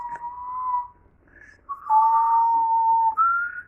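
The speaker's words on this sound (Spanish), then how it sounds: "te salió a chiflar" Child whistling a few clear, wavering tones up close: one sustained note, a short pause with a brief chirp, then a longer falling whistle and a final higher note.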